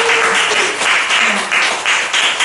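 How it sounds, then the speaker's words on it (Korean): A church congregation breaks into loud, close applause, with clapping that surges in uneven waves. "박수 한번 쳐야 되지 않을까요?"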